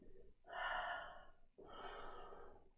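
Two long, strong exhalations during a stretching exercise, each a broad breathy rush lasting about a second, close and fairly loud with a brief pause between them and no talk.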